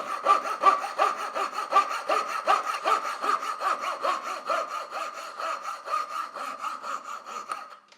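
A fine piercing saw cuts through timber for hand-cut dovetails, giving a steady, close rasping stroke rhythm that repeats evenly for several seconds and fades out at the end, with no talking.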